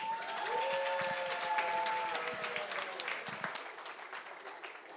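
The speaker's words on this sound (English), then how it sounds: "Another round of applause." A crowd applauds at the closing ceremony of the Transform Africa Summit 2023: sustained, fairly faint clapping over a hall ambience, with a speaking voice fading out early on.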